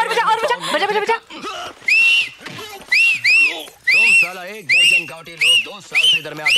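A battery-powered whistle from a Hindi film, blown in a series of short, shrill, evenly spaced blasts, loud and close, alternating with excited voices and laughter.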